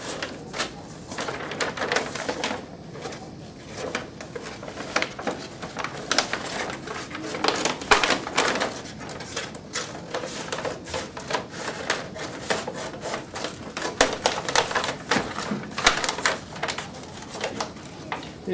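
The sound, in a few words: cutting a paper bag book cover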